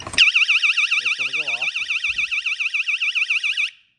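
A loud electronic YARDGARD pool door alarm blares continuously with a warbling, pulsing tone for several seconds, a voice speaking briefly underneath before it cuts off.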